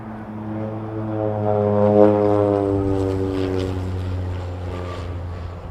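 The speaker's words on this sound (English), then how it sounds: "I think it's the Cessna FedEx." A FedEx Cessna propeller plane passes at Toronto Pearson, its droning prop hum strong and tonal, swelling as it nears and then easing off slightly as it moves on.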